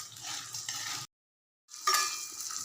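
Peanuts being stir-fried in a pan while making upma, a steady scraping and sizzling texture that cuts out briefly to silence before resuming, with clinks from the spoon against the pan and no talking.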